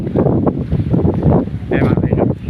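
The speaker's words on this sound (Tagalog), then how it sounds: "Medyo malakas ang hangin" Loud, blustery wind buffets the microphone outdoors at dusk in Tagalag, a continuous rumbling roar, with no clear speech.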